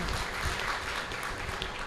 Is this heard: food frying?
no